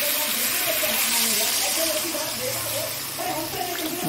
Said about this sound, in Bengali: এবার জল দিয়ে দেবো। জল দিয়ে দিচ্ছি,